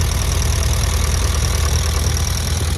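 A 1950 Ford Prefect engine idles steadily in its compartment with the belt turning, a loud, close, even rumble with a constant whirring hum and no speech.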